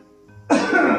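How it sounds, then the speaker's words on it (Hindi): A man coughs during a medical checkup: a short quiet stretch, then one loud, harsh cough burst that fills the last half second, close to the listener. "खांसना नहीं है सांस लेनी है।"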